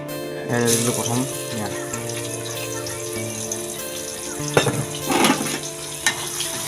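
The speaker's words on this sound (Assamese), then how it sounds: "এতিয়া কেৰাহীত দিম প্ৰথম পিঁয়াজ।" Chopped onion drops into a hot kadai and starts to fry, a steady sizzle with some stirring, heard close under sustained background tones.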